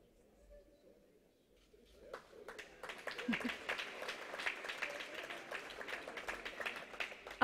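Applause breaks out from an audience at a public administration electric-mobility programme event. It starts quiet, then rises into sustained, moderately distant clapping over faint room noise.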